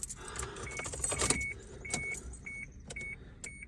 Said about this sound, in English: Now I'll throw the keys in and let's compare the brightness